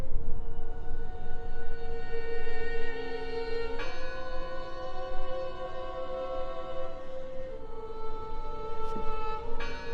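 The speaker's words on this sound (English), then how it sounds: "Listen! The bell!" A bell tolls in the video game Draugen, its long ringing tones overlapping and sustaining through a steady low background rumble, with a fresh strike arriving partway through.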